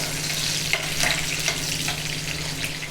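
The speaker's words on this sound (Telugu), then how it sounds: "పచ్చిమిర్చి వేగిన తర్వాత ఇప్పుడు ఆనియన్ వేసి వేగిస్తున్నా అండి" Green chillies and chopped onion fry in a hot pan with a steady close sizzle, broad hiss holding throughout and a few brief stirring crackles, no voices.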